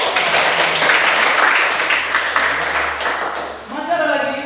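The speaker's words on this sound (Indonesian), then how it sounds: "Tepuk tangan dulu buat" Classroom clapping from students during a teaching session, a dense patter lasting several seconds before fading as a voice resumes speaking.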